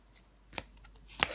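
Tarot cards being laid down over another card, two quick soft papery slaps on a table spaced about half a second apart, quiet and close.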